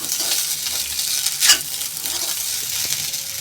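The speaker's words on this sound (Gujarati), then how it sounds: "બધું બરાબર મિક્સ કરવાનું છે." Peas, potatoes and cauliflower being stirred into vegetable pulao in a pan, a steady close scraping and sizzle with one louder scrape midway, no voices.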